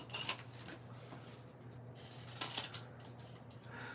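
Scissors snipping through stamped paper images, a few crisp cuts near at hand over a steady low hum, with soft paper handling between the snips.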